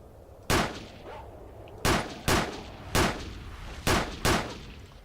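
Rifle fire with standard NATO rounds in the shooter game STALKER: Shadow of Chernobyl, six loud sharp reports in irregular single and paired shots, each with a short echoing tail.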